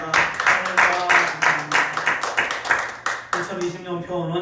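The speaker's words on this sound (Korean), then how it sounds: "서로 박수로 환영합니다." A church congregation at a worship service claps in welcome, a brisk run of rhythmic claps close by, with a voice speaking over the end as the clapping dies down.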